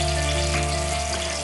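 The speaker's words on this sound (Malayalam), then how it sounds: "അപ്പോൾ ഉലുവ മൂത്ത് തുടങ്ങുന്നു, ചെറുതായിട്ട് പൊട്ടി തുടങ്ങി. ഇനി അതിലേക്ക് കൊച്ചുള്ളി." Sliced shallots hit hot oil in a pan where fenugreek seeds are already browning and popping. A steady, dense sizzle holds evenly throughout the short moment, with no voices.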